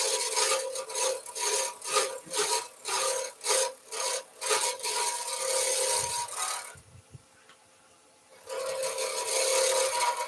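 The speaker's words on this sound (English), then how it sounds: "So I'm going to just go to a parting tool briefly." A parting tool cuts a recess for a decorative ring into a resin and polyester pen blank spinning on a lathe, giving a loud, rasping scrape. The scrape pulses in rapid bursts, drops to near silence for a moment, then returns steadily.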